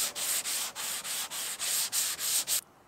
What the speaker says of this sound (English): so I did some more sanding and added a few more layers of bondo